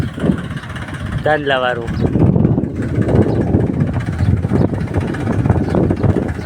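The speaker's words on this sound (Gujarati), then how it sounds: "ટ્રેક્ટર આવે છે જો" A tractor engine drones steadily and fairly loud as it approaches, a continuous low rumble that builds slightly, with a brief voice speaking over it early on.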